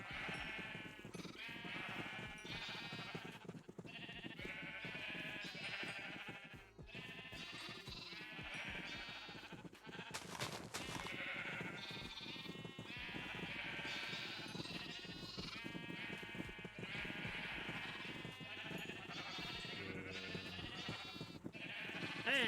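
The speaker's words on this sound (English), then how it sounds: "Let me get my experience for breeding these sheep." Sheep in Minecraft bleat over and over in overlapping, wavering calls, a steady chorus from several animals being bred, loud and continuous with game sounds beneath and no talk.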